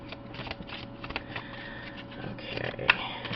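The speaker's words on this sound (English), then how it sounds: "Alright, so let me shuffle." Tarot cards being shuffled by hand, a soft continuous riffling and rustling with small taps, quiet and close, one sharper snap near the end.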